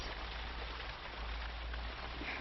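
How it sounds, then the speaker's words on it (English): Steady rain falls at night, a soft continuous patter on surfaces heard alone at low level without pause. "The rain is as contrary as I ever was."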